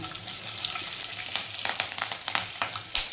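Slit green chillies, cardamom, black pepper, asafoetida and bay leaf sizzling in hot oil, a steady hiss broken by sharp spitting crackles that grow more frequent toward the end.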